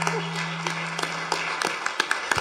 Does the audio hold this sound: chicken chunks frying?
no